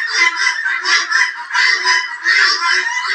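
Chinese geese on a poultry farm honk loudly and close, in a run of repeated nasal calls with short gaps between bursts and no talking.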